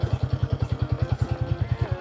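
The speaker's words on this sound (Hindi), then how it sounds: "इसका जो इंजन का थंप है" A Royal Enfield motorcycle engine idles with its characteristic thump, a fast, even pulse of deep beats repeating steadily and close, with no voices over it.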